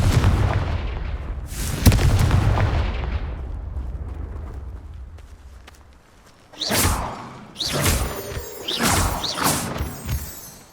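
Confringo blasting spell explosions in the Hogwarts Legacy video game: a heavy booming blast with a long rumbling decay, then after a short lull a rapid series of sharp, loud bursts close together, with no talking.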